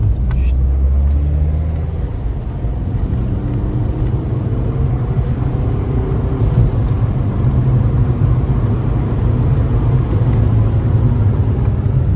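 Audi A3 1.9 TDI hatchback driving, a steady low engine and road rumble with tyre noise holding throughout, close and continuous, with no one talking over it.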